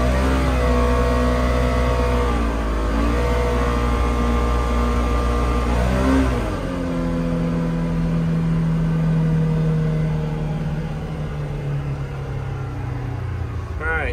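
A 2024 Polaris Xpedition XP 1000 UTV engine held at high revs gives a steady, close droning hum, then eases off to a lower, smoother tone.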